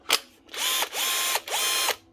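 Bosch GSB18-2Li 18 volt DIY drill with a DC motor, after repair, whirring in three short bursts that each spin up and wind down, with a click before the first.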